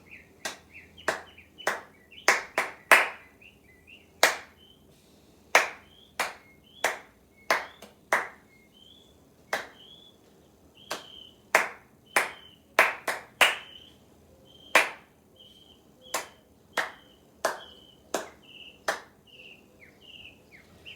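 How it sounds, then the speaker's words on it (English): Hands clapping out the rhythm of the Beethoven Violin Concerto theme in F major, sharp close claps alone in a quiet room, grouped in uneven phrases of short and long beats over about twenty seconds, with faint background chirps. "Clapping the entire thing."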